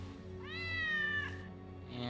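A cat in a video game gives a single clear, rising-then-falling meow, close and moderately loud over a low steady background hum from the game.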